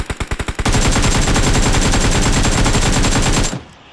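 Rapid automatic gunfire in the BGMI mobile battle royale game, a short burst of separate shots followed by a sustained loud stream of rounds lasting about three seconds before cutting off abruptly.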